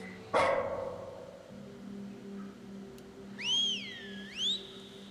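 One sharp dog bark from the horror video game Lost In Vivo rings out, followed by a low electronic hum and a pair of rising and falling whistle-like tones.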